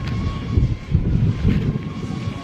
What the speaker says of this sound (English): There's a drone up there and it's not mine.